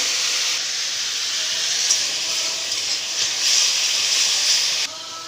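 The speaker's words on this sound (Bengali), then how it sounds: "সামান্য একটু জল দিয়ে মশলাটা আমি কষিয়ে নেব" Spice paste of turmeric and chilli powder sizzling hard in a pan after a splash of water, a loud, steady hissing spray close up that holds for about five seconds then suddenly drops away.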